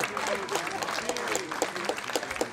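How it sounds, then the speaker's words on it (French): Applause from a theatre audience in Bergerac fills the room steadily throughout, a dense patter of many hands with voices mixed in beneath it. "on l'applaudit bien fort"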